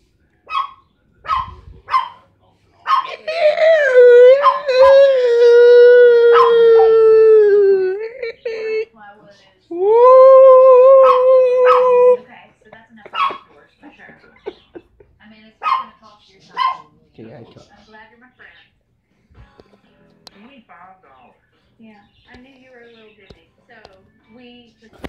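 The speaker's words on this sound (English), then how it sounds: "Dogs barking." Several dogs bark and whine indoors, with a long drawn-out howl or wail in the middle, then scattered short barks that fade toward the end, fairly close and loud.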